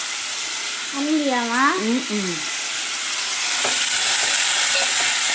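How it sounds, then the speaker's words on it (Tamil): Tomato and onion sauté in a pan, a soft sizzle and stirring scrape underneath a brief stretch of talk, the frying noise growing louder and more prominent toward the end. "நல்லா வதக்கிடலாம்"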